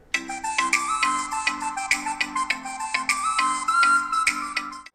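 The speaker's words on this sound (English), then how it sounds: "This is the sound of the Cork 2 speaker." Music plays through a Cork 2 Bluetooth speaker, a bright chiming melody with a steady pulsing bass line, close and moderately loud, with no talking before it cuts off at the end.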